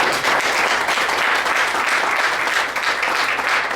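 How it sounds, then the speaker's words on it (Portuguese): Steady, dense applause from a church congregation at a Sunday worship service, broad and continuous for the whole stretch, with no clear voices rising above the clapping. "Quem pode aplaudir?"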